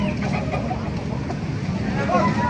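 A ten-month-old SBR gamefowl rooster at a Baliuag market clucks in short bursts, set within a dense, steady wash of crowd noise and murmuring voices.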